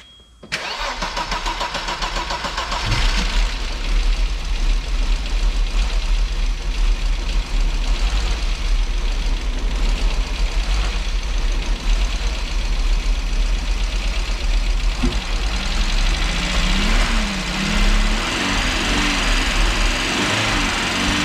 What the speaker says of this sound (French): Ça fait quand même un bruit de merde, hein, 5 cylindres d'origine